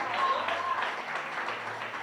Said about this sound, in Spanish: dale ese aplauso fuerte al Rey de la Gloria